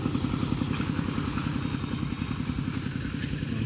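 Walk-behind farm tractor engine chugging nearby with a rapid, steady low putter and rattly clatter throughout, loud and unbroken for several seconds.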